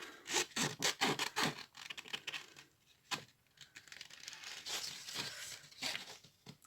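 A paper witch figure being cut out for an autumn Halloween card gives close, crisp snipping and rustling in quick irregular bursts, then softer scraping and crinkling with brief pauses.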